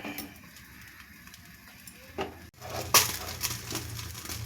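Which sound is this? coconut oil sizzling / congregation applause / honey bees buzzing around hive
coconut oil sizzling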